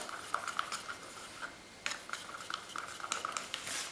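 A popsicle stick stirring a cup of fluid acrylic pouring paint mixed with a few drops of silicone lubricant, giving faint scraping and tapping against the container in an irregular rhythm, quiet and close, with no voices.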